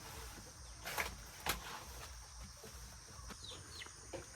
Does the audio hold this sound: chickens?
yes